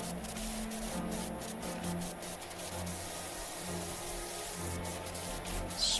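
Pressure washer spraying in PowerWash Simulator 2, a continuous hissing water jet with a low motor hum, steady and moderately quiet throughout.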